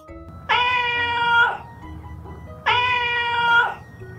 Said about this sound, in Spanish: Es un gato. Vamos a escuchar el sonido que hace.